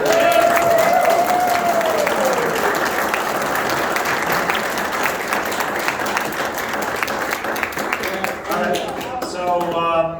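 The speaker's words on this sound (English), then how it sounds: "Everybody give a round of applause for" Sustained audience applause at an outdoor low country boil gathering at Hyco Lake, steady loud crowd clapping throughout with a voice and whistle audible near the start.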